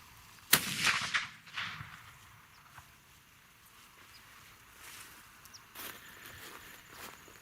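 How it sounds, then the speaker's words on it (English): A single sharp shotgun blast from a Savage 220 firing a Remington-Barnes slug at a target range, loud and abrupt, followed by a brief echo and quiet outdoor rustling. "So let me take another shot and see if we have anything approximating a group."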